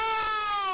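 A cat meows in a farming video game, giving one steady, drawn-out tonal cry lasting under a second at moderate level with no talk over it.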